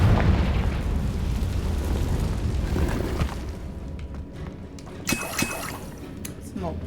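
A Confringo fire spell bursts with a loud booming explosion in Hogwarts Legacy, a rumbling blast that fades into crackling debris and sharp game effect sounds.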